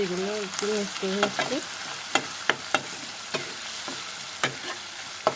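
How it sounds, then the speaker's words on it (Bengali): Ginger, garlic, onion and spices fry in hot oil while being stirred and browned, a steady sizzle punctuated by repeated sharp spoon scrapes and knocks against the pan; a brief warbling tone sounds near the start. "এগুলো একটু ভালো করে কষিয়ে নেব একদম কালারটা বাদামি কালার করে নিয়ে নেবো"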